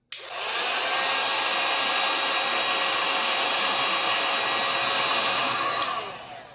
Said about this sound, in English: take this heat gun and have it strung all over the place, and I'm going to shrink it